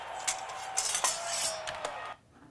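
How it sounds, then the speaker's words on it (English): A metal sword sliding out of its sheath as a sound effect, a faint scraping metallic ring lasting about two seconds with small clinks along the way, then cutting off. "I had some metal sounds of a sword being pulled out"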